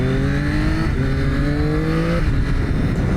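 A 2026 Aprilia RS 660 Factory sport motorcycle engine at full throttle, loud and close, with a rising buzzy engine note and two quick pitch drops at gear shifts before it climbs again.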